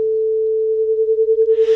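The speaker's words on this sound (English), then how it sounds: "The two sounds mix just as the added sine waves predict they should, with a slow oscillation in intensity." A steady pure electronic tone hums alone, then mixed 440 Hz and 450 Hz sine waves begin beating, the loudness swelling and fading in a slow, regular pulse about ten times per second.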